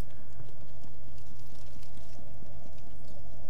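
Horse hooves galloping in The Elder Scrolls Online during an Aetherian Archive trial, a loud, close, continuous clip-clop drumming at a quick, even pace with no talk over it.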